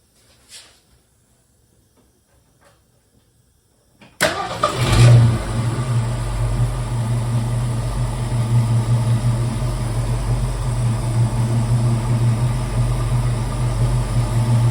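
A 1963 Ford Falcon Sprint engine cranks and catches after a few seconds of near silence, briefly revving before settling into a loud, steady, close idle.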